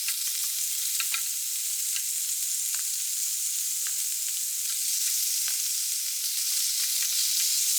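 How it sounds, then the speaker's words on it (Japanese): Meat frying in a pan for a bento lunch, a steady bright sizzle with small crackles and pops throughout, no voices. "お肉も焼きます。"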